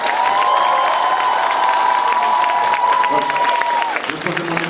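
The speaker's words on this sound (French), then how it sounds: "donc on peut déjà rien que ça les applaudir." A crowd cheers and applauds dancers at a hip-hop dance battle, loud sustained clapping and shouting with a bright whistle-like tone held over it, the noise easing toward the end.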